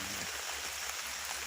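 Steady rain falling outdoors at a palm oil fruit loading site in the early morning, a soft continuous wash of patter and hiss with no voices, fairly quiet and even throughout.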